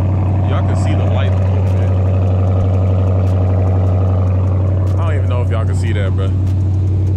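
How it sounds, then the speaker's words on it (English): A Dodge Charger's loud exhaust drones steadily and deeply while driving, staying prominent under someone talking casually throughout. "Exhaust is loud, anyway."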